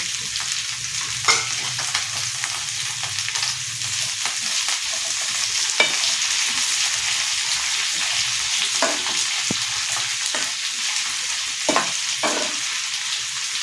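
Sliced onions are sautéed with curry leaves for a fish curry under a loud, continuous sizzle. A spatula scrapes and taps against the pan now and then, with no talking.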